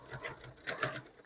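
A sewing machine stitches back and forth to lock the thread on quilt-as-you-go hexagon quilt pieces, a quiet rhythmic patter of short mechanical bursts with no talking.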